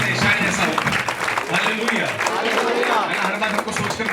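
A church congregation claps and cheers during a Christmas service, a dense, continuous wash of applause with voices mixed in throughout.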